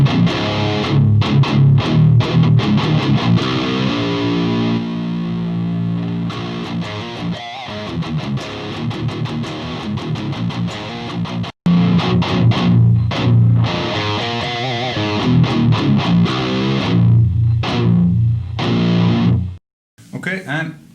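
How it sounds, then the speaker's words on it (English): An electric guitar runs through a tube amp and a Bugera PS1 power soak at bedroom level, heard from a miked cabinet. Thick distorted chords and riffs play loud and continuously, with a couple of short breaks. "let's listen to the cabinet with the microphone"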